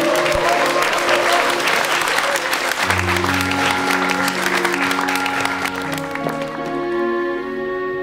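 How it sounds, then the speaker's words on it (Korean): A studio audience breaks into loud, sustained applause during a Korean drama scene, dense clapping that continues as music swells underneath. "용기 내준 남자분께 큰 박수 부탁드릴게요."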